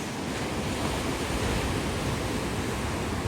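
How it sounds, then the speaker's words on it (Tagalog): Ocean waves crash along the rocky 17-Mile Drive coast in a loud, steady broadband roar, with wind buffeting the microphone and no voices. "Grabe yung waves, guys."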